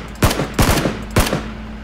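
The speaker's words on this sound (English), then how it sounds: "I'm laying covering fire" PUBG gunfire comes as three sharp, loud shots, close and evenly spaced in about a second and a half. Each shot leaves a brief echo over a steady background hum.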